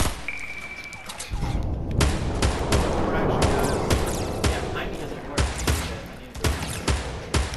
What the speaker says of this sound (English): We got gunshots.